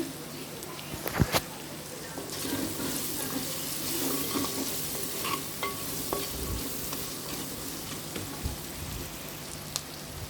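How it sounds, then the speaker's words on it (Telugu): Onions fry in a clay pot for a cauliflower tomato curry, giving a steady sizzle with occasional scraping stirs and clinks, close and continuous, while a voice talks quietly at times. "చూడండి ఈ ఆనియన్స్ వేగుతున్నాయి కదా"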